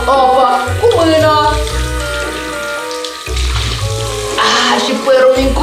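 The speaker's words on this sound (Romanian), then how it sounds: "Voi bea apă chiar din robinet! Doar că rece!" Cold water running from a bathroom tap, a continuous splashing hiss that fills the clip, with a person talking over it.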